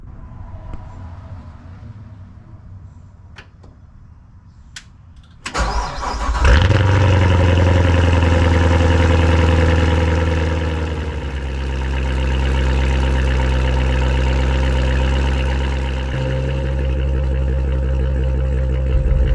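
Dry-sump Corvette engine cranking and firing after a few quiet clicks, then settling into a loud, steady rumbling idle that swells slightly, with no talk.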